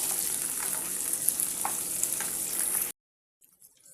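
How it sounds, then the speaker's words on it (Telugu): Chopped tomatoes fry and get stirred in a pan while upma is cooked, giving a steady close sizzle with scraping stirs for about three seconds before it cuts to near silence. "ఇప్పుడు దీన్ని కూడా కలబెట్టేసుకొని టమాటా అనేది కొంచెం మెత్తబడేంత వరకు ఉడికించుకోండి"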